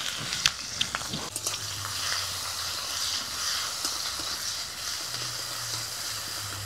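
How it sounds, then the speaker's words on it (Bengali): Chopped onion fries in hot oil with dried red chillies, bay leaves and panch phoron in a pan. A steady, close sizzle hisses throughout, with a few sharp crackles early on and no voices. "পেঁয়াজটা ভাজা হয়ে গেছে"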